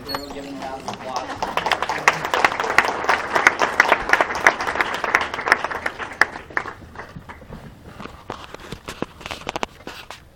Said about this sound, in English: everyone giving a round of applause